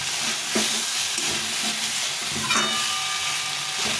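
Fresh desi tomatoes fry down in hot oil for a mrigal fish curry, giving a constant close sizzle with spatula scrapes and knocks against the pan at irregular intervals, and no talking.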